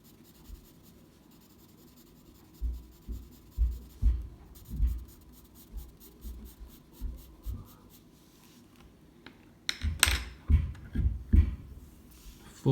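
A 3B graphite pencil drags across paper in rhythmic back-and-forth shading strokes, faint and close, with a quiet stretch and then a quicker, firmer burst of scribbling.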